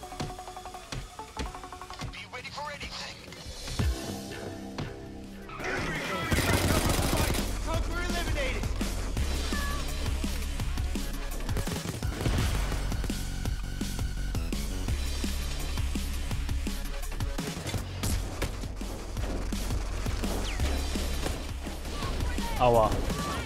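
Dense gunfire in the heist shooter Payday 2, a sustained, loud barrage of rapid shots and impacts that starts after a quieter opening, while someone talks over it.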